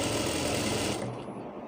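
Sewing machine running steadily as it stitches fabric for a scrunchie hair tie, a continuous close whir that drops off and quiets near the end.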